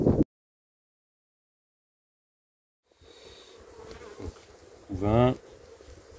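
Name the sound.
honey bees buzzing around a beehive frame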